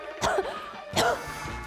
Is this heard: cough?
yes